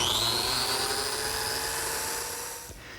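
A biscuit joiner's whine runs steady and loud for nearly the whole moment as it cuts slots in wood, falling away at the very end.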